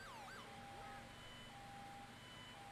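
A faint wailing video game siren sweeps up and down at the start, then fades into a steady low engine hum.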